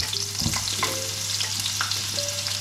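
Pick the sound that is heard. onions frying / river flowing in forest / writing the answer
onions frying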